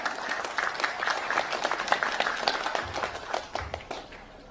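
An audience claps at a speech about Indonesian descendants of Prabu Siliwangi, with distinct, uneven handclaps forming moderate applause that thins out toward the end.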